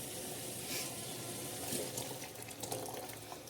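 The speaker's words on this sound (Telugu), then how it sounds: "వాటర్ బాయిల్ అయిన తర్వాత వేసి బాగా మరిగించాలి. వాటర్ అలా బాయిల్ అవుతుంది కదా" Water in a pot coming to the boil for ragi java, a soft steady bubbling and hissing that continues throughout at low volume.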